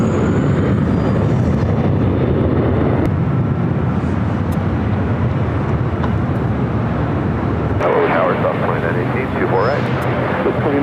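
A Southwest Airlines jet departs LAX, bound for Chicago Midway, with a loud, continuous engine roar that shifts in tone partway through, while voices talk over it.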